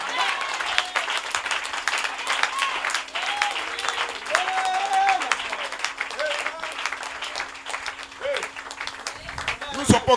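Church congregation applauding and cheering during a French-language sermon, a dense sustained wash of clapping and voices that runs steadily throughout, with a low steady hum beneath and a few raised shouts and whoops rising out of the crowd.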